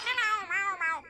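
A cartoon character's voice imitates a cat, meowing several times in quick, rising and falling bursts, loud and close with no other sound around it.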